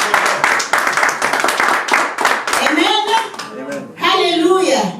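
A church congregation at Friday prayers claps in quick, rhythmic bursts close by, then voices rise and sing over scattered claps.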